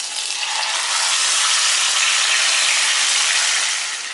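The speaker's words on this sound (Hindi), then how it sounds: "आधी टीस्पून कश्मीरी लाल मिर्च पाउडर डाल के टमाटर को सौते करेंगे।" Grated tomatoes sautéing in hot oil with cumin and cloves in a kadai, a loud steady close sizzle and hiss without pause and with no talk.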